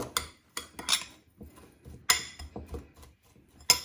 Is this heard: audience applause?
no